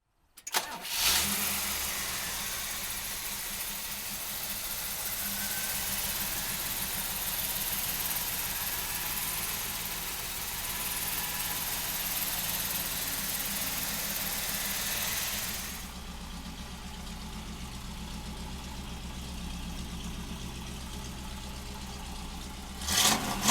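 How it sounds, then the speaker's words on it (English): A 1967 Chevrolet Camaro with RS front end and cowl hood cranks and fires up, then settles into a loud, steady close-up idle with a deep rumble, the tone dropping slightly as it eases near the end. "Now come on up, we're gonna fire it up for you right now."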